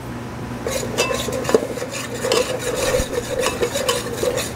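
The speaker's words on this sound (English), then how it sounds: "Keep stirring." A spoon scrapes and clinks steadily around a pan of salmon chowder as flour thickens it. The stirring is close and continuous, with a soft sizzle beneath.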